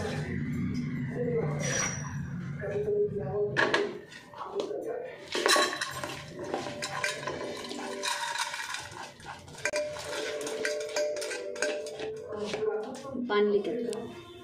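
A metal pressure cooker clanks and scrapes while being rinsed, with water splashing and a voice talking throughout.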